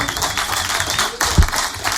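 A studio audience in a radio station's live studio applauds a singer with dense, continuous clapping that fills the space evenly throughout.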